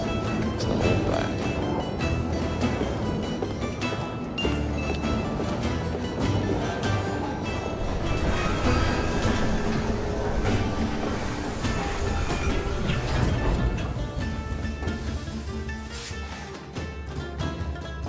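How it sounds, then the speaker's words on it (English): Train running in the video game Assassin's Creed Syndicate, a continuous rumbling rail ride with rattling carriages and metallic clatter, steady and loud throughout with no talk. "at least we have a train now"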